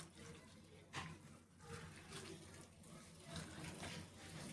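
Water poured onto puffed rice (muri) in a bowl, a faint, steady trickling and splashing stream that runs for several seconds with slight surges.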